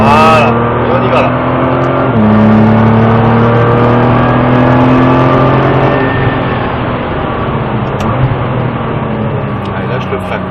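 Nissan GT-R with a 550 hp 3.8-litre V6 engine accelerating progressively, its steady low engine note climbing in steps as it gains speed, loud and close, with talk over it throughout.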